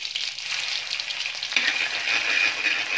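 Mustard seeds, cumin and crushed garlic drop into hot oil and sizzle loudly, a dense crackling hiss that swells partway through as more goes in, close and steady with no talking.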